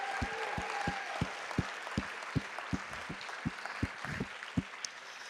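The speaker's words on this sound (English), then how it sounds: "Let's just give them a round of applause." An audience at a youth roundtable gives the panel a round of applause, heard at a distance in a room as fairly faint, evenly paced claps, a few hands at a time over a soft wash of room noise.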